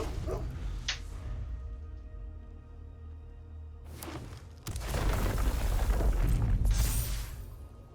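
Barking from a dog token in the digital card game MTG Arena, a few short yips and barks over game sound effects, followed by a louder, dense burst of game noise.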